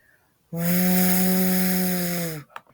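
A sustained voiced buzzing "v" hum, made with the teeth on the lower lip, held steadily for about two seconds by a human voice, imitating the rush of blowing wind, then stopping abruptly.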